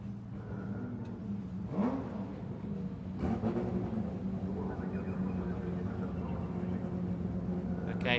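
TCR and GT4 race cars roll slowly on the formation lap at the Vila Real street circuit, a steady drone of engines with occasional revs rising and fading, heard beneath continuous background noise.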